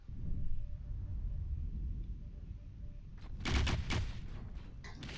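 Muffled ambience gives way to a rapid burst of video game gunfire, several close sharp shots in quick succession.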